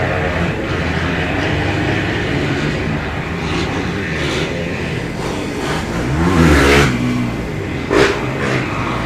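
Off-road racing motorcycles, including a Husqvarna 310, roar and rev continuously at a Glen Helen race, a dense loud engine wash with one rider swelling closer and a brief sharper rev near the end.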